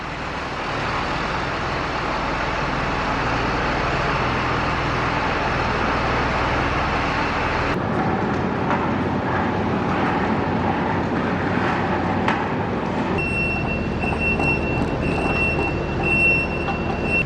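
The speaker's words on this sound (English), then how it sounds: "Okay, he's gonna pull the planter out" A tractor engine pulls a planter out during harvest prep on a farm, a steady broadband mechanical rumble that shifts in character partway through, with a thin high whine appearing near the end and no speech.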